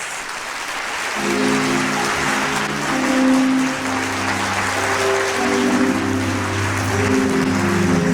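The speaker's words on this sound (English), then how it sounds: "I would like right now to give them all a big round of applause." An audience applauding steadily, a dense wash of clapping that swells slightly and holds, with faint sustained tones underneath.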